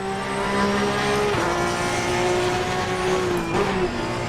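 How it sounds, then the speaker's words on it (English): Race car engine in Assetto Corsa Competizione, one of the Challengers Pack cars, roars loud and steady throughout, its pitch dropping sharply twice as gears change. "It's got a hell of a sound of an engine though."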